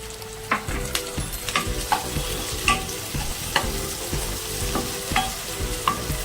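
Tomatoes go into a pan of fried onions for a green corn chivda, bringing a steady sizzle broken by repeated clanks and scrapes of a spoon stirring against the pan, close and fairly loud with no voices.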